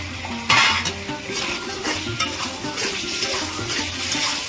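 Fried jackfruit seeds being stirred and sautéed in a thick gravy, with a spoon scraping a pan and a low continuous sizzle, opening with a sharp clatter and then steady, close stirring.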